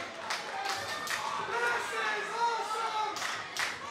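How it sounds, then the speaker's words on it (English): Wrestling crowd at a 2CW reunion show clapping and chanting "This is awesome" in rhythmic bursts, a steady roar of many voices with sharp claps throughout, a commentator talking over it. "some of the crowd's starting to chant, "This is awesome,""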